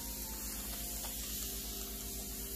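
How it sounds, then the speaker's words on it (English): A spray bottle mists water onto chair upholstery fabric before painting, a faint, continuous hiss held for a couple of seconds at close range, with no voices heard. "we're gonna spray down"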